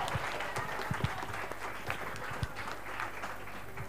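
Applause from an audience at a school talent show, a steady wash of many hands clapping with some louder individual claps standing out, moderately loud and continuous throughout.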